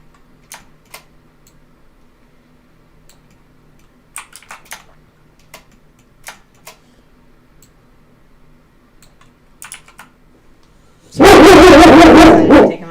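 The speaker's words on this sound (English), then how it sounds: "now he got on my couch that's in here, and is now whining at me because I'm not letting him bark." A dog barks and whines indoors: soft scattered ticks and faint yaps lead to a loud, sustained burst of barking near the end, close and alone without talk.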